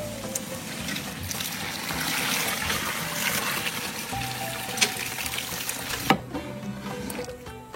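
Water pours steadily into a pot of masala and mutton for a large biryani at close range, a continuous splashing stream that thins toward the end, with faint clinks.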